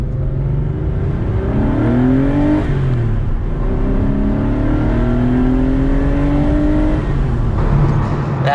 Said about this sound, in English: That engine note is so beautiful.